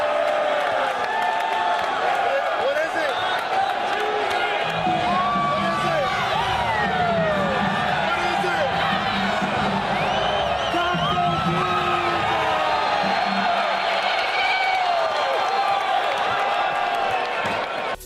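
Basketball arena crowd cheering and whooping at a game, a steady loud roar with scattered shouts, while a voice talks over it.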